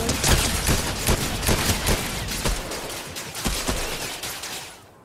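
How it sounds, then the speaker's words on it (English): Rapid sniper and gunfire bursts in a frantic online shooter match, loud sharp cracks repeating irregularly over a dense wash of game noise, fading out at the end. "We're being sniped."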